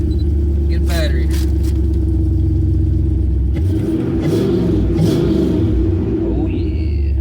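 A work truck's engine rumbles loudly and steadily while driving, a deep continuous drone that shifts in pitch partway through, with brief clicks and knocks on top.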